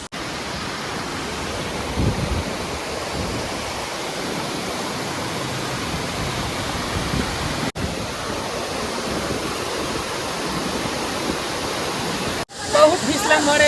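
Nagrada waterfall in Sakti pours with a steady, full roaring rush of water, loud and unbroken throughout, heard from close by.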